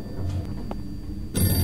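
A telephone in a horror video game rings in short bursts, faint and hollow at first, then a louder, brighter ring cuts in near the end.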